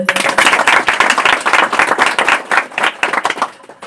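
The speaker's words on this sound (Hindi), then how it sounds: "एक बार पिता परमेश्वर के लिए ताली बजाएं" Church congregation claps enthusiastically, a loud, close burst of many hands with a choppy, partly rhythmic pulse that gradually thins out toward the end, without speech.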